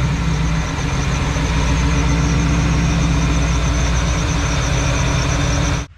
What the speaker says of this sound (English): we're listening for is that squeaking sound that we heard in the beginning of the video